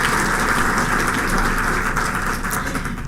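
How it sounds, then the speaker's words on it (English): Dense, steady applause from a large audience at a university graduation ceremony, loud and continuous like a wash of many hands clapping, with no speech over it. "I would ask you to applaud again for him"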